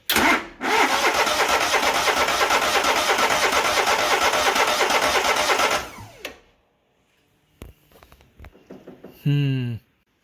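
Grazer G2297K engine cranking loudly and steadily for about five seconds, then cutting off, followed by a few faint clanks and one more brief cranking burst near the end.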